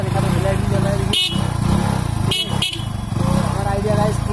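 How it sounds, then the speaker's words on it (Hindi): A motorcycle running without a battery, with its engine idling throughout, sounds its horn in three short, sharp honks over the steady engine noise. "तो गाइस फाइनल बाइक स्टार्ट होने के बाद अभी मैं हॉर्न बजाता हूँ"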